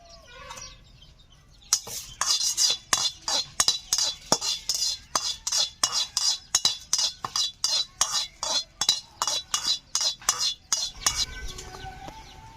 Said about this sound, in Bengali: শুকনো লঙ্কা তেজপাতা দেওয়ার পরে আমি 30 সেকেন্ড মতো নেড়ে চেড়ে নিয়েছি